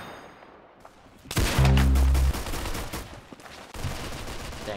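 Gunfire from the Roblox game Arsenal cracks in a loud, dense burst of rapid shots with booming low impacts, then trails off into scattered quieter firing.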